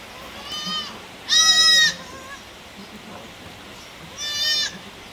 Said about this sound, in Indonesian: anak kambing yang baru lahir